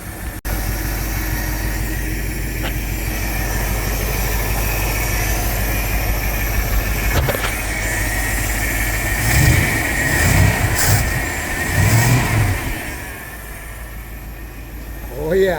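A Plymouth Trailduster truck engine runs steadily at idle with a deep, close rumble, then revs up in a few swelling bursts before settling back.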